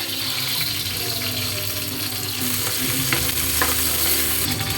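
Ginger, garlic and lemongrass sauté in a hot pan with a steady, dense sizzle that holds at the same level throughout, close and loud, with light stirring scrapes and no talk.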